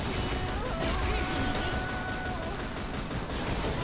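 Dense, loud gunfire rattles without pause as monsters are shot at in the CrossFire video game, a thick barrage of overlapping shots and impacts.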